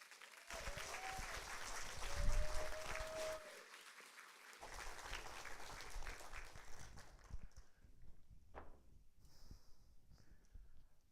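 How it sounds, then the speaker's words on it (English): Audience applause for a TEDx speaker at a university event, a full crowd clapping that swells and then thins out into scattered claps, with a brief tonal whistle-like sound early on and quieter room noise as it fades. "Please give a round of applause for Omri Morris."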